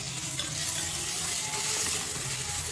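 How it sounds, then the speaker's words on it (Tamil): Rasam ingredients fry in hot oil in a pan with tomatoes going in, giving a steady, even sizzle that holds at the same level throughout, no voices. "இப்போது நல்லா ஆயிலில் ஃப்ரை ஆகிட்டுருக்கு"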